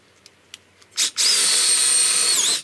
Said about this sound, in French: Lorsque vous percez votre tasseau de plus grande longueur